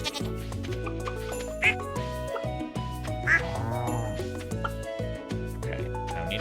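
Duck quacks ring out in the farming video game Stardew Valley, two or three brief squawks spaced across a few seconds over continuous background game music, with other farm animal bleats mixed in.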